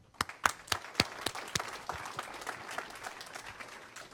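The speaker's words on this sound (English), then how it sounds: "Let's give yourselves and our speakers, everyone, a round of applause" A small conference audience claps for the speakers, starting with a few sharp, distinct claps that thin out into scattered, fading applause.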